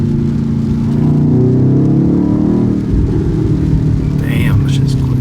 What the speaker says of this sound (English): For a big SUV, this shit pulls. And it sounds good too. It burbles a little bit too.